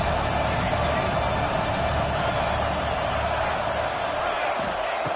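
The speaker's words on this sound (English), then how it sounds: "And the crowd coming to life here, trying to help this defense down in the red zone." An American football stadium crowd roars steadily during a third-down red-zone defensive stand, a dense, continuous wash of distant cheering and noise throughout.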